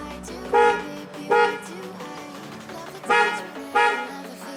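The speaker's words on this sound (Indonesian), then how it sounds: "Kita bandingkan ya dengan klakson yang udah gue ganti merek Denso." A Denso aftermarket horn on a Mitsubishi Xpander Sport honks four times in short blasts, fairly close, over a low background hum.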